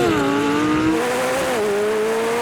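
A Ferrari 296 GTB, McLaren 750S, Lamborghini Huracan Performante and Porsche 911 Turbo launching together in a drag race, giving a loud, close engine roar whose pitch climbs and shifts as they pull away.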